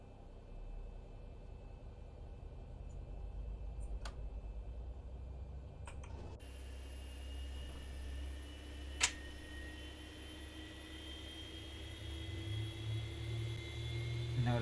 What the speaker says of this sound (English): Alright, starting first engine.